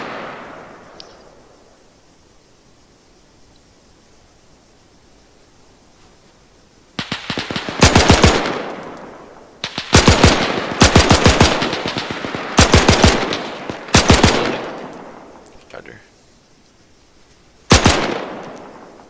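An M1919 machine gun in the Arma 3 video game fires several loud, sharp bursts during an assault on German infantry, with quiet gaps between the rattling volleys and no voices.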